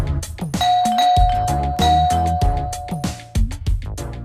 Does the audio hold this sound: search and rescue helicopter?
no